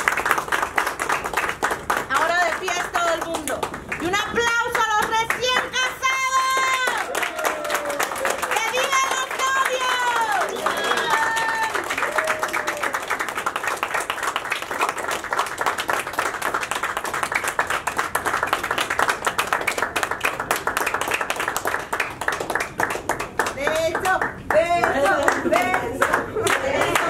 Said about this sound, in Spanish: Y un aplauso a los recién casados